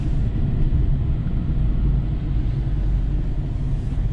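Idling car engine with a slight exhaust leak, a steady low rumble close by, dense and unbroken for several seconds with no voices.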